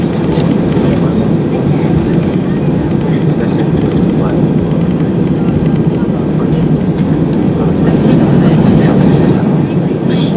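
An EasyJet Airbus A320 rolls along a taxiway at London Gatwick, slowing and turning, its engines giving a loud, steady low rumble heard from inside the cabin for the whole stretch, with no pauses.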